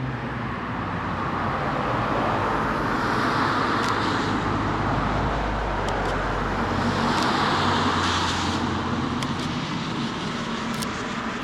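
Cars passing on a road at night, a continuous close traffic roar with swelling and fading passes, steady throughout with no voices.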